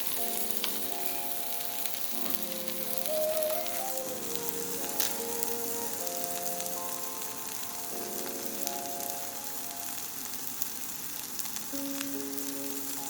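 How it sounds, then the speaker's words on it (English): Steady frying sizzle with a dense crackling hiss as pieces of food fry for spaghetti, accompanied by tonal musical notes playing throughout; no one speaks. "Hear that sizzling, that wonderful sound we all love when something is frying."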